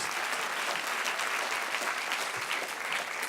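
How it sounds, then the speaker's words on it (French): A studio audience on a French talk show applauds a guest, a continuous, dense crowd of hands clapping at an even level from start to finish. "Et c'est parti, applaudissements Pascal Légitimus."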